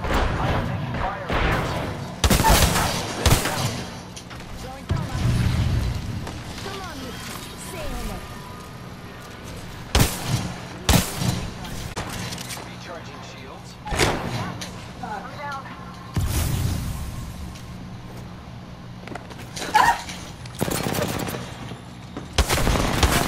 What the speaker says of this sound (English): I am taking fire.